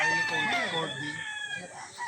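A rooster crows close by in one drawn-out, wavering call that trails off toward the end.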